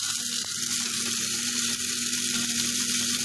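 Rice frying on a stove, a constant loud sizzle with a low steady hum underneath, unbroken throughout and with no voices.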